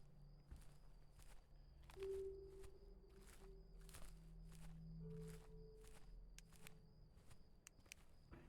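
Footsteps in a horror video game land in a regular rhythm of soft thuds, faint and distant under a low ambient hum and occasional rustles.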